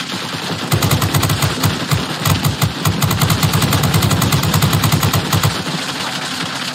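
Rapid bursts of aircraft machine-gun fire from a P-26 Peashooter in the World of Warplanes combat game, loud and continuous over a droning engine with short pauses between volleys.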